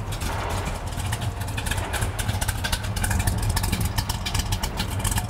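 A 1967 Chevelle with a 454ci V8 idles steadily up close, a deep, loping rumble that stays continuous and loud throughout with no one talking.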